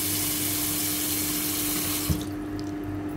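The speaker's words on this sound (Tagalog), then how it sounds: "Hinugasan ko siya ng 2 beses." Chicken feet being rinsed under a running kitchen tap, a steady loud rush of water that cuts off near the end, leaving a quieter room with faint drips.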